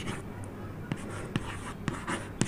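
Chalk or a marker taps and scratches on a board in short strokes with rhythmic knocks during a Hindi-language English grammar lesson, fairly quiet in a small room.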